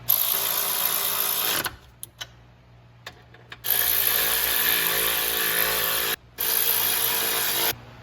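A power tool tightens a fastener on a BMW G30/F90 auxiliary radiator, giving a loud, close mechanical whir in several long bursts separated by short gaps.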